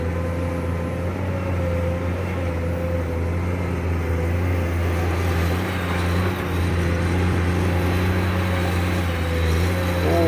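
The engine of a Komatsu PC210-10MO excavator roars while it digs into hard ground: a steady, loud, droning hum with a constant pitch, heard close throughout with no break.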